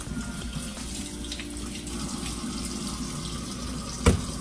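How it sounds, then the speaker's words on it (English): Beans are rinsed in a kitchen sink under a running tap, a steady close stream of water splashing over them with a brief clunk near the end. "I'm just kind of rinsing them off"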